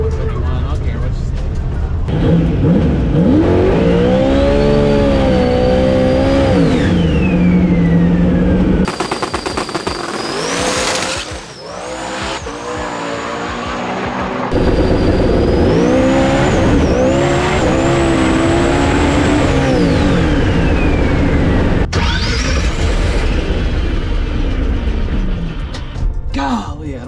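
LS-engined drag race car revs and roars loudly up close at a World Cup drag racing event, with rising and falling engine pitch, a sharp burst of crackling and a few spoken voices over the noise.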